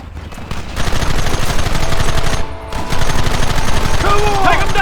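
Dense gunfire in the Western video game Red Dead Redemption, loud rapid overlapping shots and bursts through nearly the whole stretch with a short lull midway, with shouting voices over the battle.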